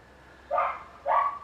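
A dog in a garden barks twice, two short, clear barks about half a second apart, fairly close and standing alone over quiet background hiss.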